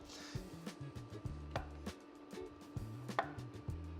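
Morel mushrooms are sheared off at the base and broken apart by hand, making a run of soft, close snapping and crunching sounds at an irregular rhythm over a steady low hum.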